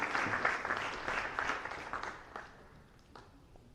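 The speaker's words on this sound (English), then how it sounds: "Can we all give them a round of applause for Dr. Dolan and Dr. Wolf" An audience at a sport summit gives a round of applause for two panelists, a dense wash of clapping that is strongest at first and gradually thins and fades toward the end.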